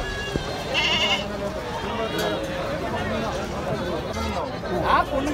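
Goats bleating at a busy Kerala goat market, a few calls rising over constant crowd chatter and voices, with general bustle throughout.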